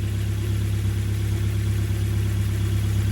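A warmed-up Ford Escort Cosworth engine idles steadily and close by, with a deep, even, throbbing hum holding constant throughout and no speech.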